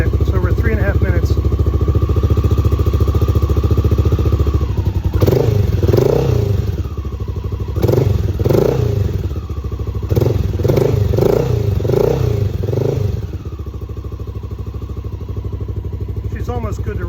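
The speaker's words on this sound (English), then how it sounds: "So it takes a little time for my XR to get up to temperature" A Honda XR650L motorcycle engine idles steadily while it warms up, a close, continuous low rumble with someone talking over it for much of the time.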